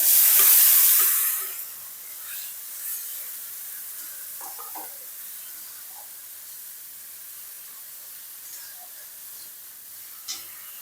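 Ground spice paste hits hot oil with onions in a pan for a rui fish curry with pointed gourd and potato, setting off a loud hissing sizzle that quickly dies down to a faint, steady crackle with a few small stirring knocks.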